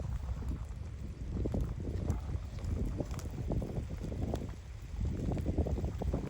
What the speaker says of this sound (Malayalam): കാറ്റ് കൊണ്ടുവരുന്നുണ്ട് മഴ ഇവിടേക്ക്.